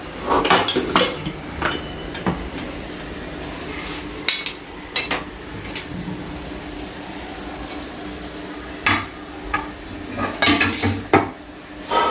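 Metal utensils scrape and clank against a pan as a fried sprouts sandwich is lifted out, with intermittent sharp clatters over a steady background hum.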